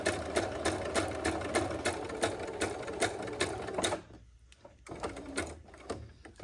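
Sewing machine zigzag-stitching a journal cover, a fast, steady mechanical chatter of needle strokes that runs for about four seconds and then stops, followed by quieter handling clicks and shuffling.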